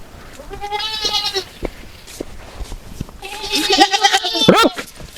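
A goat bleats loudly and nearby in two wavering calls, the second longer and more strained, with short knocks and faint background noise between them.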